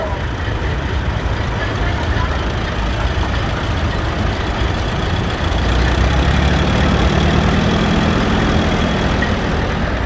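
A 1956 Allis-Chalmers WD-45 antique tractor runs at a steam show, its engine a steady low rumble and chug, with a deeper throb building toward the end amid outdoor crowd noise.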